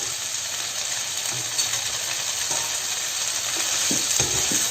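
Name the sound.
drained pasta mixed with softened vegetables in the pan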